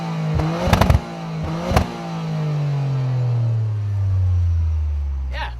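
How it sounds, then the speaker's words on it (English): Toyota GR Yaris on its standard exhaust gives a couple of sharp, close revs, then settles into a steady low idle drone that slowly falls in pitch. "what would an exhaust video be without a bit of a rev?"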